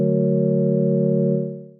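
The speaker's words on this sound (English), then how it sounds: "first oscillator. If you don't sync it, it sounds like this." A DSI Prophet 12 synthesizer's sine-wave oscillator, left unsynced, holds a single steady buzzing tone for under two seconds, then fades quickly at the end.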